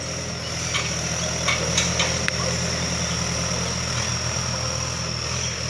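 A tractor engine drones steadily as it works a wet field, with a continuous low, throbbing rumble and a few faint clicks over it.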